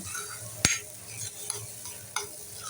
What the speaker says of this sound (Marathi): ही डाळ चांगली मी अशी चांगली परतून घेतलीये.